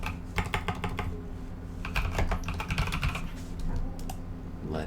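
Quick keystrokes on a computer keyboard while a folder name is typed in, arriving in uneven bursts of clicks at close range over a steady low hum, with no talking.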